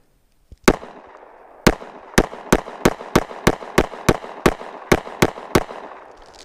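A Sig P365 pistol fires about a dozen loud, sharp shots. A single shot is followed by a pause, then a fast, steady string of reports with brief echoing tails.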